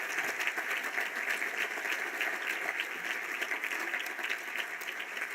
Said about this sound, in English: let's all give a good round of applause for Lou and his family